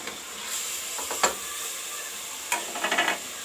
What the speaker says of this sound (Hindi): अब इसको हम मिक्स करते हैं और मसाले भून लेते हैं गोश्त के साथ साथ